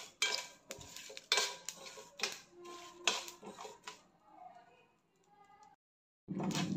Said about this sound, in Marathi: तीळ, मिरची, लवंग, दालचिनी, काळी मिरी घेतलेले आहेत. हे सर्व मी भाजून घेते.